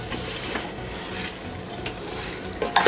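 Chicken pulao being fried over high flame in a pressure cooker, a steady close sizzle with short stirring scrapes and a few louder clinks near the end, no talking.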